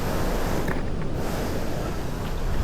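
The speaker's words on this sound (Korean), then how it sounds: "바람 너무 많이 불어가지고" Strong wind roars across a high mountain ridge on Seoraksan's Gongnyong Ridge, a steady loud buffeting with microphone rumble throughout and no voices.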